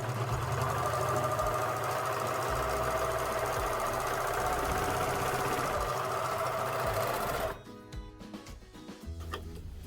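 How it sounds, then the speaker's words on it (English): A serger overlock machine runs steadily, sewing and trimming a seam on overall pants with a fast mechanical whir for about eight seconds, then stops abruptly, leaving faint clicks and handling sounds. "at the serger, we're going to cut off about half of the seam as we serge"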